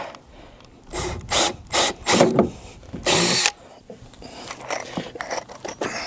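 A power drill with a 3/8 bit bores through wood for a practice rail box, several short bursts of whirring and grinding in quick succession, close and loud with quieter handling noises between.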